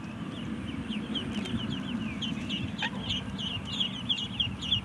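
Chickens cluck in a steady, busy chatter with a brief louder call partway through, over a constant low background rumble.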